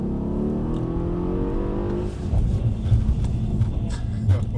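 A Mercedes brakes hard with ABS while steering around cones at Brooklands. A steady engine drone winds down, then gives way to a rough, pulsing rumble from the tyres and brakes, close and continuous, with no talking.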